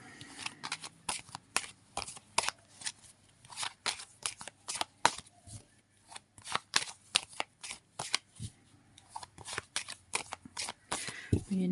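A deck of cards is shuffled repeatedly, a quick run of crisp riffling snaps and flutters in irregular bursts, close and moderately loud, with no talking over it.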